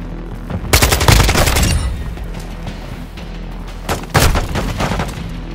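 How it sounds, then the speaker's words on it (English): Grenade blast and rapid automatic gunfire in Call of Duty: Modern Warfare II, loud and dense, with a booming burst, a sustained rattle, then a second heavy volley over steady battlefield rumble. "Throwing grenade!"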